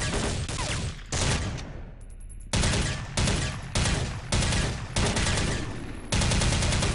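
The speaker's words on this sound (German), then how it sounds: "Wie die Schüsse halt irgendwo hängen bleiben schon wieder." Bursts of automatic gunfire from the shooter video game Soldier of Fortune 2: Double Helix, loud, close and in rapid repeated volleys with short pauses and one quieter gap between them.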